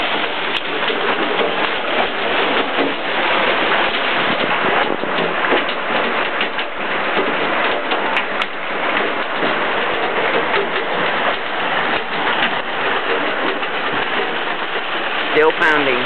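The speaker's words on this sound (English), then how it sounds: "The skylights are pounded." Heavy rain from a severe summer thunderstorm pounds on skylights, a dense, steady roar of drumming water that holds loud and unbroken throughout.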